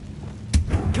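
A Bombarda blast spell from the Hogwarts Legacy video game lands as a short, deep thump partway through, followed by a few softer low rumbles.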